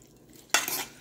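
A fork stirring meat sauce for rigatoni, a sudden close scraping and squelching burst after a quiet moment, lasting about half a second with no talk.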